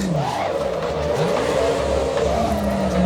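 A simulated race car drifting in the sim racing game Assetto Corsa EVO, a sustained engine whine rising and falling with revs alongside a steady tire squeal, heard alone without talk.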